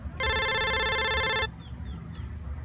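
A telephone rings once, a loud, steady electronic trill lasting just over a second, then leaves only a quiet room hum behind it.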